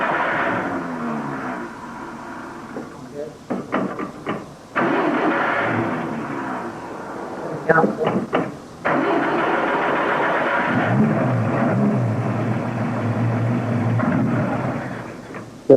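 A petrol engine with a fault that makes it cut out when the accelerator is touched gets cranked in two short sputtering bursts, then catches and settles into a steady, fairly loud idle.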